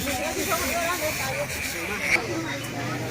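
Hot oil sizzles and hisses loudly and steadily in a pan while bamboo shoot curry is cooked, a dense, close frying sound with a voice speaking over it.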